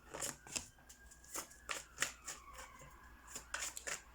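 Tarot cards being handled and shuffled up close: soft, papery riffles and slides in short repeated bursts, quiet, with no talk.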